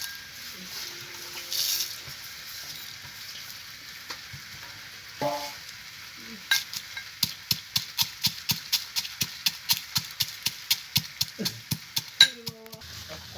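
Fried panch phoron and dried red chillies are pounded for a chalta pickle, a run of sharp, regular thuds accelerating into a steady rhythmic series, preceded by a few scattered knocks and scrapes.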